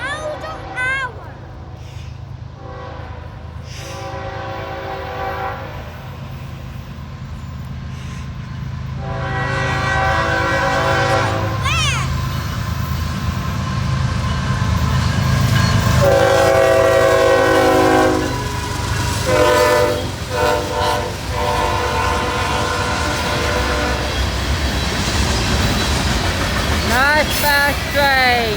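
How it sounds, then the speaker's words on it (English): A fast, loaded CSX freight train of rock cars with a mid-train DPU passes close at about 60 mph, its horn sounding repeatedly over a steady heavy roar and wheel clatter, with voices talking. "Nice fast train."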